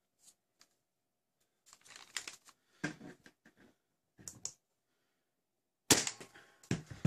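Nerf Rival Pilot XXIII-100 blaster firing darts, heard as scattered sharp mechanical clacks and bursts in irregular clusters, with a louder rapid volley near the end; no talking.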